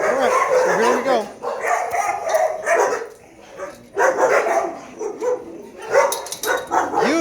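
Several dogs bark and yip close by in overlapping, irregular bursts, with whimpering mixed in and a brief lull midway, while people talk under the noise.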